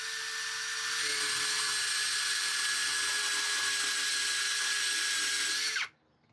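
A Hanabi LJ2022 cordless drill with a hybrid chuck and 55 Nm of torque, fitted with a flat spade bit and held in one hand, whines steadily at high pitch for nearly six seconds before stopping abruptly.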